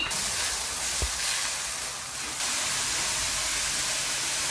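Grated carrots sautéing with garlic and ginger paste in a pan give a steady, close, even sizzle throughout, with one brief low knock near the start and a slight lift in hiss partway through.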